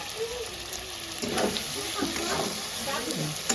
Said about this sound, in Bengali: মাংস কষানো হয়ে গেছে এবার দুটো কাঁচা লঙ্কা চিরা আমি এখন এরপরে দিয়ে দেবো